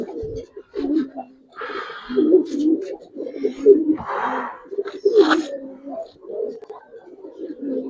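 Giribaz pigeons, silver and colored breeds, coo softly and flutter as they are released, with a few wingbeat bursts over steady close cooing and low voices murmuring now and then.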